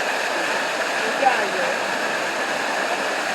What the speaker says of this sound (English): Yeah, man, the falls, yeah. The falls coming down, eh?